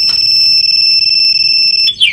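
A Rusi RFI175 motorcycle fitted with a two-way alarm sounds a loud, steady, piercing electronic tone that holds continuously before shifting into a rising warble near the end.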